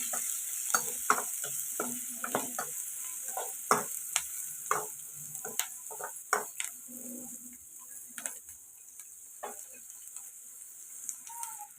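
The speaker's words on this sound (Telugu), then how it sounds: "ఫ్రై అవుతుంది కదండి" Onions fry in hot oil in a pan for chicken curry, giving a steady close sizzle. A spoon stirs and taps against the pan in irregular clicks throughout, with no talking.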